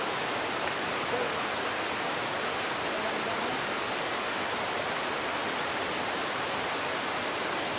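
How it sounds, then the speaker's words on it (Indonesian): Waterfall at Riam Merawat in Sanggau Ledo, West Kalimantan, roaring as a steady, dense broadband rush of falling water that stays constant and close throughout, with no voices. "Ini adalah air terjun di Sanggau Ledo Riam Merawat."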